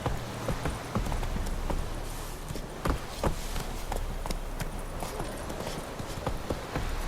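Hooves of Roach, the horse in the video game The Witcher 3, clip-clop in a steady trotting rhythm, close and prominent over a constant game ambience, with a few sharper hoof strikes standing out.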